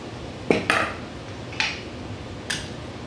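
A utensil scrapes and clinks against a dish while canned spaghetti squash is stirred together with salsa: four short, sharp strikes spaced out, close and fairly quiet, with no talk.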